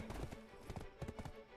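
Horse hooves clip-clop at a steady riding rhythm in Black Desert Online, a dense run of close, moderately loud game footfalls mixed with music-like tones and no talking.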